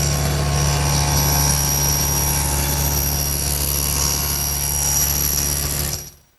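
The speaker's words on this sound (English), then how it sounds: "I'll do that over at the table saw. Now the first step is to just cut through this leg." A table saw cuts partway through a wooden template leg, giving a loud, steady motor drone with a strong low hum that stops abruptly after about six seconds.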